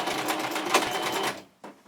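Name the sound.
sewing machine stitching two fabric pieces into a circle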